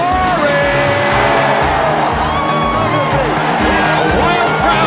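Basketball arena crowd roaring for a Houston Rockets 18-point lead at the Summit in 1994, a dense, sustained wall of cheering and whistles with a commentator talking over it.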